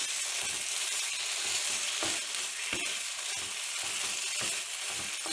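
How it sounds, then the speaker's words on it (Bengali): Mustard oil sizzles steadily in a pan with mashed flat-bean paste as a spoon stirs it, making rhythmic scraping strokes over a loud, continuous frying hiss. "আর সেটাকে ভালো করে নাড়াবো।"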